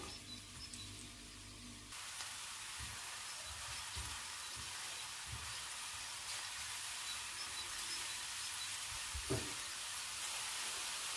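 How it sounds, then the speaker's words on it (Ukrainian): Chopped onion sizzling in hot sunflower oil for a lean red Ukrainian borscht with mushrooms, a steady close hiss after a brief start, with a few soft stirring knocks. "І нараз висипаю туди цибулю, яку я покришила. І жарю її до світло-золотистого кольору."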